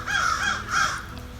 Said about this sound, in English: Birds are so loud